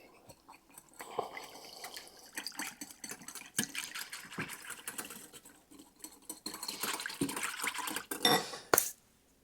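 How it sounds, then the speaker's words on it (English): A whisk beats loosened honey in a bowl while mixing a mayo-free slaw dressing, giving quiet, rapid, irregular clicking and tapping strokes that grow busier toward the end. "just whisk that up"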